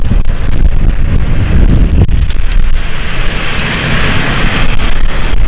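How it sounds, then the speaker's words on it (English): Strong wind roars steadily across the microphone at London City Airport, a loud, continuous buffeting rumble with gusty surges and no voices. "Wind is really picking up"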